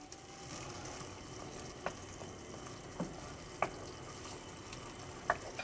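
A spoon stirs tomato paste into bolognese in a frying pan, giving a quiet, even sizzle broken by a handful of light taps and scrapes against the pan.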